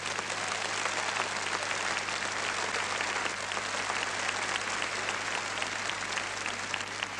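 Sustained applause from a large arena crowd at a 1979 professional ballroom dance world championship in Munich's Olympiahalle, an even, continuous roar of clapping with a low hum beneath.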